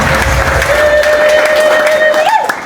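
A church congregation at an Ethiopian prophetic worship service claps loudly and continuously while a sustained held tone rings above the crowd noise, and voices mingle in the background.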